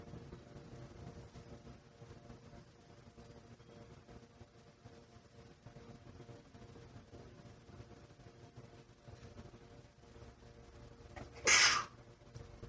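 A single sharp sneeze bursts out near the end of a quiet mindfulness class, loud and brief against a hushed room with faint background hum.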